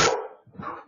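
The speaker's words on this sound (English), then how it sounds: "These dogs take play fighting seriously." Dogs play fighting: a loud, sharp bark bursts out close by, then a shorter, rougher growling yip follows.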